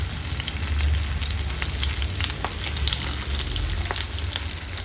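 Fish frying slowly on low heat in a covered pan, a continuous close sizzle and crackle with scattered pops and light clinks, even in level throughout with no talking.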